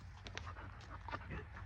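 Puppies panting and whimpering close by: a few soft, breathy pants and faint whines over a low background rumble, short and quiet.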